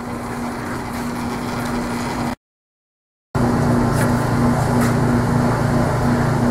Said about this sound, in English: then I'm going to go ahead and grind this bevel here